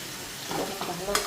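Turmeric and chilli powder with salt fry in hot oil in a pan, a close, steady sizzle with stirring scrapes over just over a second.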